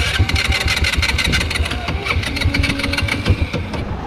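An ATV engine cranks and catches, then idles with a rapid, knocking, chugging rhythm close by, its pulses loud and steady.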